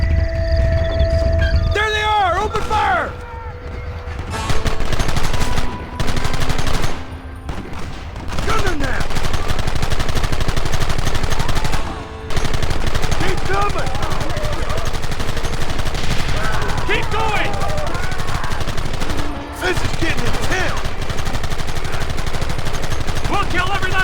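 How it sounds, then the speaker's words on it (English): Gunfire from the Red Dead Redemption video game: dense, continuous volleys of rifle and pistol shots in a chaotic firefight, with shouting voices mixed in and a few brief lulls. "Open fire!"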